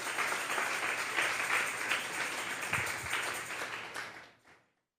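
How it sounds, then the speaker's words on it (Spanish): Congregation applauding during a Sunday morning church service, a steady broad wash of clapping for about four seconds that fades out near the end. "Vamos a darle un fuerte aplauso al Señor esta mañana."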